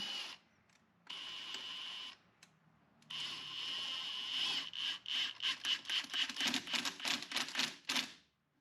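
A hose clamp on a titanium charge pipe of a 2022 Subaru WRX is tightened with a 13 mm ratcheting wrench, giving bursts of rapid clicking that end in a fast series of close, sharp ratchet ticks.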